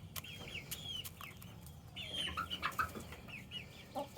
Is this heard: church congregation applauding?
no